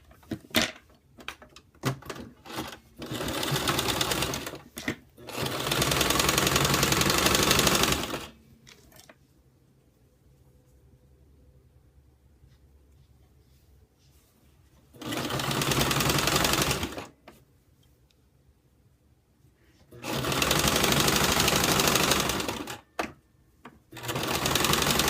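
A sewing machine stitches fabric for a high neck top in three loud, steady bursts of a few seconds each, with quiet pauses and faint handling clicks between them.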